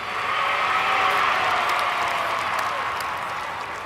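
A crowd lining the streets cheers and applauds for the Queen in a steady, dense roar of clapping and voices that holds throughout, slightly fading toward the end.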